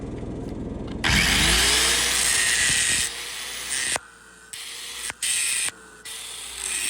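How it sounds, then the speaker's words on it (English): An angle grinder bites into a weld start on a steel pipe with a loud, close, high whine, then stops and restarts in several short bursts as the disc spins down between passes. "So I'm gonna grind it and show you guys"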